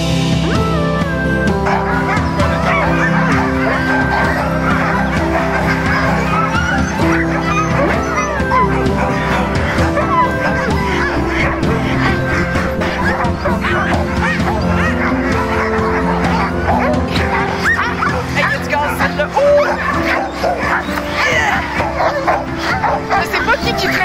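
Excited sled dogs bark, yip and whine continuously at the start of a dog-sled ride, a dense loud chorus from many animals close by with people talking over it.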